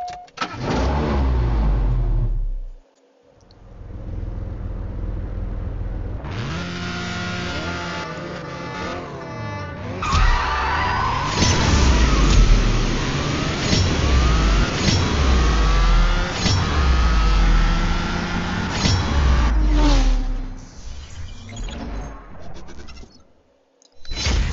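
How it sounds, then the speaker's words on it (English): A BMW M2 Competition races in CSR2, its engine revving hard through repeated rising sweeps broken by quick gear shifts, loud and close, with a short lull early on. "The switching of gears for the BMW is a lot faster than the Ford."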